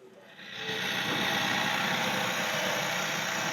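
A car engine starts up and settles into a steady, rumbling idle, close by and fairly quiet.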